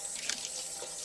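Tap water runs steadily over hands at a kitchen sink before food preparation, a soft, even hiss with a faint splashing flicker partway through, close and quiet with no one talking.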